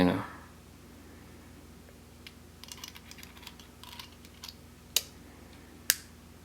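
Imperia RTA vape tank mechanism gives sharp metallic clicks, two crisp distinct ones near the end after a scatter of faint ticks, all close and quiet against a hushed background.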